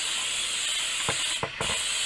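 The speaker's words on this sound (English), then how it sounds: "I found this coconut spray, which is cooking, and I just spray it on here lightly." Coconut cooking spray from an aerosol can is sprayed lightly onto a pan in a few short hissing bursts over a steady background hiss, close by.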